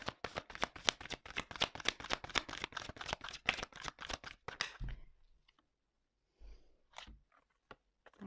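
Tarot cards are shuffled up close in a quick, rhythmic run of crisp riffling taps for several seconds. Near silence follows, broken by a few faint handling clicks.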